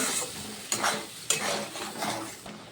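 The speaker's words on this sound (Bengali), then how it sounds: "ভালো করে নেড়ে দেব" A spoon stirs a spice paste in a frying pan for a dried Bombay duck fish dish, giving soft scraping strokes and occasional clinks against the pan over a faint sizzle.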